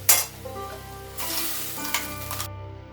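A loud hiss of ginger-garlic spice paste hitting hot oil, then steady sizzling as a spoon scrapes and stirs in the pan, with a faint steady hum beneath.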